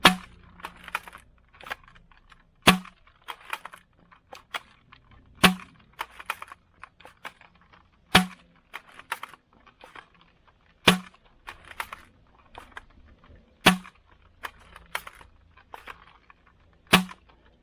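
A T238 Scar toy blaster with a tracer unit fires foam darts on a hot, humid day: sharp single shots roughly every two to three seconds, each followed by quieter mechanical clicking and priming sounds, with no talk.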